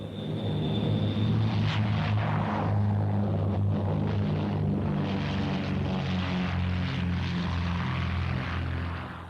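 Britten-Norman Defender and three-engine Trilander propeller aircraft at the 1976 Farnborough air show, a loud, steady drone of piston propeller engines close by, holding level throughout with a brief high whine near the start.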